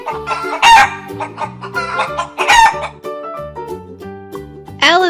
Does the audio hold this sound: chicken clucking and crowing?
yes